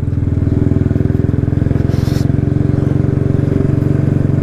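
A motorcycle ridden slowly and cautiously by an uneasy rider puts out a steady, close engine putter with an even low thumping rhythm, holding a constant pace with no revving.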